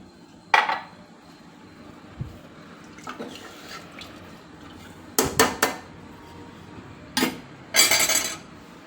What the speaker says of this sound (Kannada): ಈಗ ಲಿಡ್ ಕ್ಲೋಸ್ ಮಾಡಿಬಿಡೋಣ